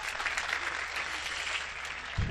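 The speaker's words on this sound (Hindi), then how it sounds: "एक बार तालियां बजाए मन दे" An audience at a Hindi comedy poetry show applauds in a steady, fairly distant patter of many hands, ending with a brief low thump.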